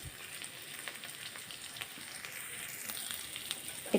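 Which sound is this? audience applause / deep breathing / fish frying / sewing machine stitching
fish frying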